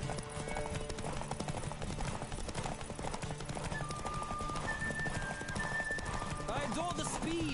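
Horse hooves clip-clop at a gallop in The Witcher 3, a steady rapid rhythm up close, with a horse neighing and game music and a voice over the top.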